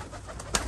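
Pigeons coo softly in a brief snippet, a low throaty call rising over steady background noise.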